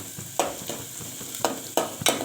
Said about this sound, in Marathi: लसूण पण असं मस्त लालसर होऊ द्यायचं फोडणीमध्ये